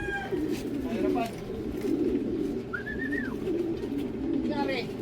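Racing pigeons cooing in repeated soft throaty rolls close by during a hot, hard 411 km race from Matnog, Sorsogon, Philippines, with a few high chirps, and people talking in Tagalog over them.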